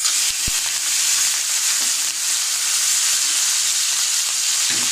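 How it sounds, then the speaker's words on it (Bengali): Prawns fry in hot mustard oil in a pan, giving a loud, constant sizzle and crackle close by, with a sharp clink of a utensil near the start and no talking. "এবারে সবার প্রথমে আমি চিংড়ি মাছগুলো"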